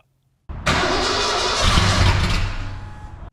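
A high-horsepower V8 car engine cranks and fires up after sitting in storage, bursting from silence into a loud, steady roar that holds for about three seconds before cutting off abruptly.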